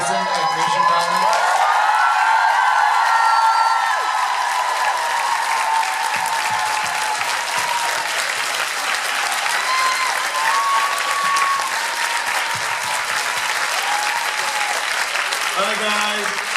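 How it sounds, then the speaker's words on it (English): Convention panel audience breaking into big applause and cheering, a dense roar of clapping and whoops filling the hall continuously, with faint voices and tones blending in. "can we get a big round of applause for Mason and Misha Collins"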